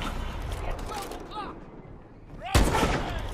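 Gunfire from Call of Duty: Advanced Warfare plays under someone talking, with scattered shots and then one heavy, loud blast near the end.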